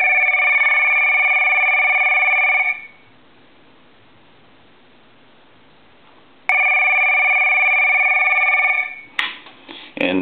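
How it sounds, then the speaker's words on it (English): An original Kermit the Frog telephone ringing on a repair bench: a loud, bright electronic ring lasting a few seconds, then a pause, then a second identical burst, cut off by a brief clatter. "I want to hang the telephone up and I want to ring it"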